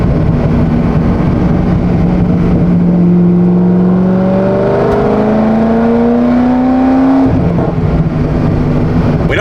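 A Corvette Z06 accelerates hard. The loud engine tone rises through a long pull, drops sharply at a gear change, then builds again, with heavy road and wind noise underneath.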